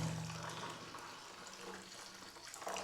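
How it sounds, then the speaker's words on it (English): Water from a bottle poured into a hot drink in a cup inside a WW2 pillbox in Northumberland, a quiet, steady hissing stream lasting a few seconds, faint and close. "I'm just going to get my water, pour that into my hot drink, into my drink"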